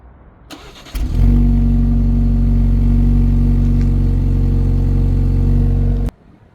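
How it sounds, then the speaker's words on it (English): A 2025 BMW 330i fires up from cold: a quick starter whir, then the engine catches and settles into a loud, steady high idle for about five seconds before it is switched off. "Let's do a little cold start over here."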